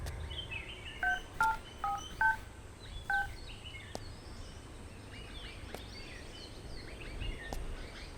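A telephone keypad beeps out several dual-tone dialing presses in an uneven burst, quiet and close, over a faint outdoor background with occasional soft chirps and no talk.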